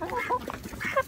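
Several chickens cluck and murmur softly close by in short, quick calls while eating food scraps such as carrots.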